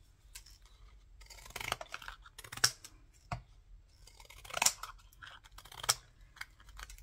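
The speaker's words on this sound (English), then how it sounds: "These are pinking shears that I got from Spotlight." Pinking shears snip through paper for layered Christmas gift tags, a series of crisp, irregular cuts and crunches close up, with no talking.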